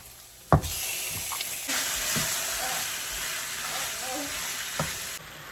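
Marinated chicken tipped into a pan of fried onions lands with a soft thump, then sizzles in a loud, steady hiss with occasional light stirring taps.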